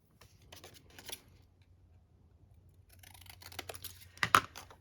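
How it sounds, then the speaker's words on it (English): Scissors make light snips through scraps of paper in a quiet room, with short bursts of crisp cutting separated by pauses and a sharper snip near the end. "I'm going to just snip a little bit off."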